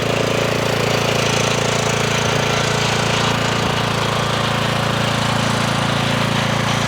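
A Cub Cadet ZT1 zero-turn mower drives nearby with a steady, loud engine drone and a continuous rattling hum that stays even throughout, with no talking.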